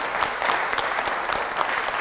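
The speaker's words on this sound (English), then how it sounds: "Let's give a nice round of applause for our scholars" An audience applauds student scholars at a chorale recognition program, a steady, dense burst of many hands clapping close by that carries on without a pause.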